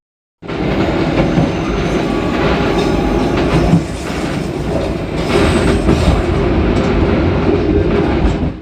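A Pangrango passenger train rolls along the rails on the Bogor–Sukabumi line, with loud, steady rumbling and clatter heard close from inside the carriage throughout.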